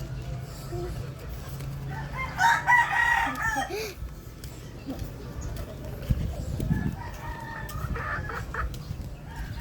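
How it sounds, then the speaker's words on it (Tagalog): A rooster crows loudly in a couple of drawn-out calls, with hens clucking softly around it and quiet background noise. "May mga manok dito at ito mga yan."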